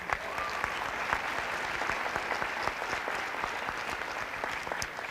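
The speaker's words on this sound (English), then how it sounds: "please, let's give them a round of applause" An audience at the 2022 Miss Spanish Fork pageant claps steadily and evenly throughout, a dense, sustained round of applause with no voices on top.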